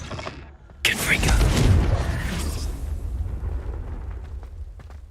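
Confringo explosive spell cast in Hogwarts Legacy, a sudden loud burst followed by a rolling, rumbling explosion that slowly fades, with a short voice heard before the blast.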